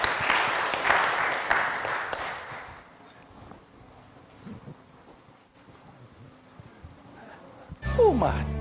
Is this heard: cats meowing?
no